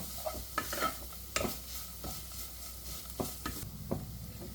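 Manathakkali (black nightshade) leaves stir-fried for a thoran, with a spatula scraping the pan in bursts over a steady low sizzle and no voices.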